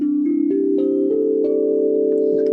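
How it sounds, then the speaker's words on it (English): A steel tongue drum, an Idiopan, played: several soft ringing metallic notes struck one after another, overlapping and sustaining into a warm blended hum, close and alone with no talking. "It is a steel tongue drum."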